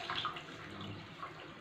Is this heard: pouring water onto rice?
yes